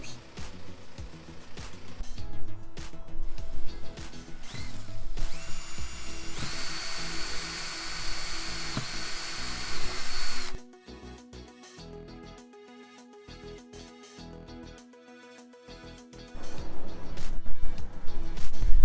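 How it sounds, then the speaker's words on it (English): A power drill whirs in several loud bursts while drilling wire holes in a subwoofer enclosure, then goes quiet for a stretch before starting up again near the end. "I'm going to get out a drill bit that is the size of one of these wires."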